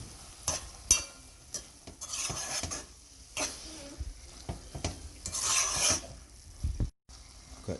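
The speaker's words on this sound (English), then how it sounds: "we're gonna give it a stir" A spoon stirs a pot of baked beans and salt fish, giving close, irregular scraping and clanking strokes against the pot with faint sizzling underneath. No voices are heard.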